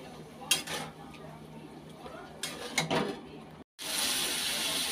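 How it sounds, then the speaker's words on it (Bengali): Spices with turmeric and salt are stirred in hot oil in a pan, with a few metallic scrapes and clinks of a spoon over a low sizzle that turns into a louder hiss after a brief gap. "এখন ভালো করে মশলাটা কষিয়ে নিই।"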